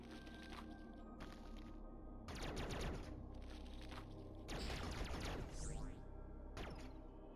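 Samus firing her weapon in the video game Metroid: Samus Returns, several bursts of blasts and impacts set against continuous game music and effects, with no talk.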